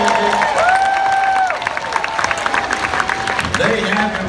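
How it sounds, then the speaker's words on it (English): Dinner-show crowd at Dolly Parton's Stampede applauding the waiters and waitresses, steady clapping and some cheering beneath a sustained musical tone and voices. "how about a nice round of applause for your waiters and waitresses?"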